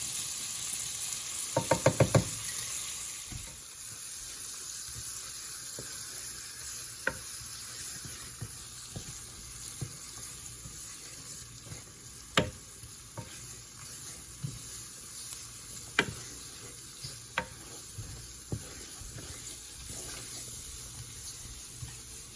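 Cube steak and flour brown in a hot frying pan with an even, moderate sizzle, a burst of clattering early on, then scattered spatula clicks over the hiss.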